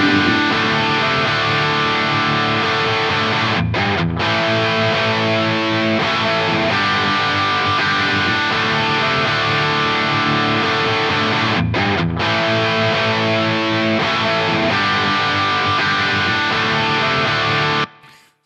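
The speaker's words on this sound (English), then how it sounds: "So hopefully you can hear that it's much more clear, all this distortion that is happening here." A thick, sustained distorted electric guitar tone from a Line 6 modeler with an EQ cut of about 4 dB plays loudly and continuously, dropping out briefly twice before cutting off abruptly at the end.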